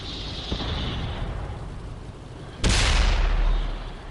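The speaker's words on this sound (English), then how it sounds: "why are we driving towards the gunfire?" A tank cannon fires in the World of Tanks video game, one sudden loud boom that rolls off over a second or so, preceded by a fainter distant thump amid rumbling game noise.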